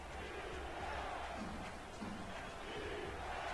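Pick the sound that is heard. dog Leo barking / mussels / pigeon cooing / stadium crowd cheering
stadium crowd cheering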